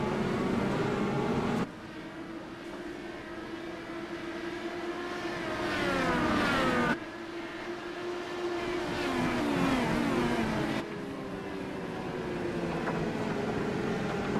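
Race cars circle the track, their engines a steady droning roar that swells and fades as the pack passes, with abrupt level changes between stretches and no talk over it.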